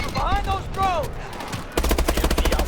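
Rapid automatic gunfire bursts from the video game Call of Duty: Advanced Warfare, loud and continuous in the second half, following a stretch of electronic tones and game noise.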